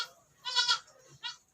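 Goats bleat on a small farm where new kids have just been born, two short quavering calls close by and fairly quiet, alone with no talk.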